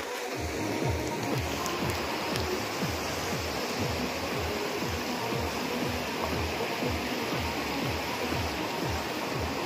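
Devarapalli waterfall near Vizag pours in a steady, dense rush of water, close and continuous, with a faint pulsing churn underneath and no voices.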